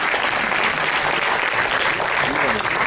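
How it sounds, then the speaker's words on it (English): Dense, loud crowd applause fills a closing ceremony hall, a continuous wash of many hands clapping for the organizing committee of a Model United Nations event. "A huge round of applause for our organizing committee members"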